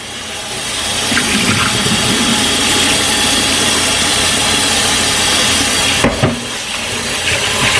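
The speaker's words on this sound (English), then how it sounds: "now I'm gonna wash my rice" Steady rush of running water fills the clip, a continuous splashing hiss with a brief clatter near the end, like rice being rinsed under a tap.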